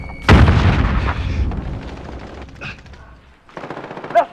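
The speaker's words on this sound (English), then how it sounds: "Be advised, friendly precision airstrike inbound." Precision airstrike in the Modern Warfare video game: a loud burst of gunfire and explosions up front, fading into rumbling debris, then a second sharper burst of fire toward the end.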